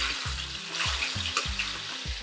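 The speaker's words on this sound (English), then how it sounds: "Right now, we're frying our plantains." Steady crackling sizzle of plantains frying in hot oil, dense and continuous, with a low repeating thump underneath.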